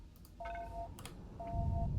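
Phone ringing in The Last Starship video game, two short electronic tone pulses, faint over a low background rumble.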